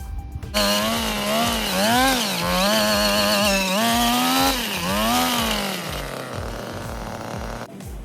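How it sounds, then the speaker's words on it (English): A gas-powered post hole auger roars to life and runs at steady high revs, its engine pitch surging and dipping as it bites into backyard soil for fence posts, loud and close throughout. "I'm about to go ahead and use my auger, start my auger up right here."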